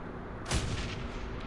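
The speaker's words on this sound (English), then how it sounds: "Let's go ahead and throw a grenade." A grenade goes off in the Shadowrun Hong Kong video game, one deep blast followed by a sustained rumbling roar over a dense noisy background, with no talk.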